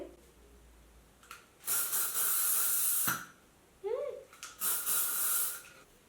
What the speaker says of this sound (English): this is the only hairspray I have